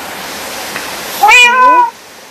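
A single Minecraft cat meows once, a clear, loud, rising-then-falling call about half a second long over a faint hiss, with no talking.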